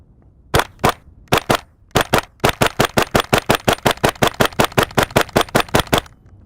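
A KRISS Vector Gen 2 firing on a range: a few spaced single shots, then a rapid steady string of about twenty loud, sharp reports at close range, with no talking.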